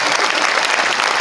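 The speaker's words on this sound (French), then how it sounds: "je crois que vous pouvez l'applaudir très fort" Audience applause at an evening awards ceremony presenting a rugby Oscar, steady dense clapping filling the room, loud and close, with no voices over it.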